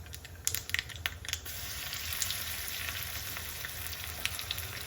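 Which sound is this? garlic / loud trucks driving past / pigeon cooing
garlic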